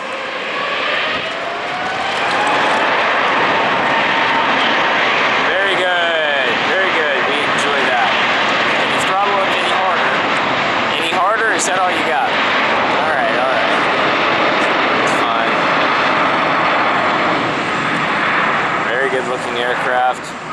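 Jet airliner taking off from Atlanta bound for Incheon, a loud, sustained engine roar that swells and holds steady throughout, with people talking over it.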